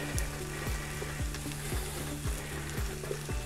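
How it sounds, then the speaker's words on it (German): Garlic fries in an OptiGrill for shakshuka, a steady close sizzle with faint rhythmic low pulses from the appliance running underneath. "Und jetzt gebe ich meinen Knoblauch dazu. und brate die noch mal so ein paar Minuten mit an."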